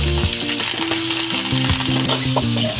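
Spareribs sauté in a pan with celery stock, giving a loud, close, constant sizzle with light stirring, while a faint tonal hum runs underneath.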